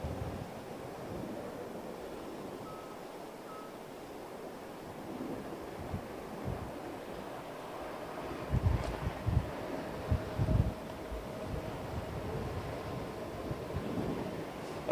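Gusty wind buffets an outdoor microphone at Heathrow airport, a steady broadband roar with stronger gusts swelling in the second half, no voices.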